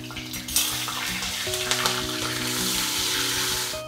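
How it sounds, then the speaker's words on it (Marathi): Ground masala paste frying in hot oil with bay leaves and a pinch of asafoetida for chana masala, a steady loud sizzle with light stirring clatter throughout, close and without talk. "म्हणून थोडासा परतून घ्यायचा तेलामध्ये."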